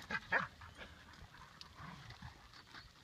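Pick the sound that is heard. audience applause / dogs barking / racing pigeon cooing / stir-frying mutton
dogs barking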